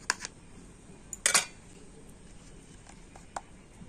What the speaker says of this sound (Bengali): তো আমি এইভাবে কাটছি